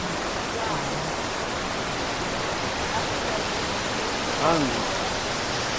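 A waterfall in El Valle, Panama gives a constant, even wash of rushing water heard from a distance, with a short chirping bird call rising briefly over it.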